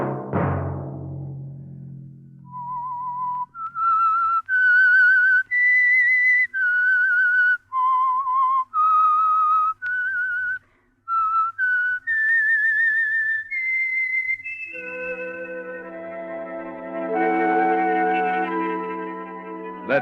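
A whistled theme tune for a radio mystery program, one person whistling a slow, eerie melody in clear sustained notes, opened by a low plucked chord and closed by an orchestral chord swelling underneath.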